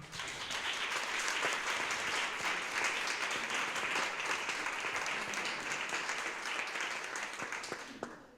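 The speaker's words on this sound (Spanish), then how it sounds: "Un fuerte aplauso." Audience at a tribute gathering in Nerva applauds the mayor, a broad, even roar of many hands clapping that holds steady for about eight seconds before tapering off at the end.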